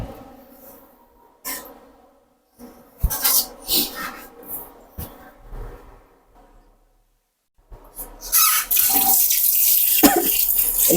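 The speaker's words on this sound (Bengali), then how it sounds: "1 কেজি পোলাওর চাল নিয়েছি, এটা আমি ধুয়ে রাখবো।" Polao rice, one kilogram, is washed under running tap water in a kitchen sink, with splashing and gushing bursts, a quiet pause, then a steady loud stream near the end.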